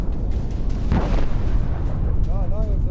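Explosions from a rocket attack on Beirut, Lebanon: a heavy boom bursts out over a constant rumbling roar, with a voice briefly speaking near the end.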